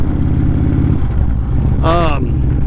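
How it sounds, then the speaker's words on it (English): Steady low engine drone of a motorcycle taking a corner, running throughout, with a brief voice-like sweep rising over it near the end. "such an exciting corner for a motorcycle video"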